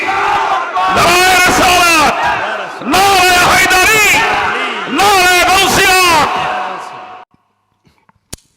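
A large religious gathering answers a takbir call with "Allahu Akbar," three loud, massed shouted responses in steady succession, each a couple of seconds long, followed by near silence.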